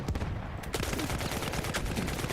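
Fast gunfire in Battlefield 1: close, dense shots and bursts that crack in quick succession over a constant din of battle, with no pause through the short span.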